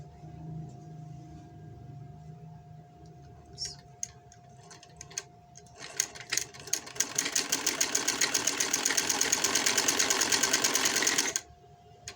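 A sewing machine runs in a steady, rapid stitching rhythm while sewing around all four sides of a box-shaped piece during a zipper-fitting job. After a few scattered clicks and handling sounds, the stitching starts loud and close and then stops abruptly.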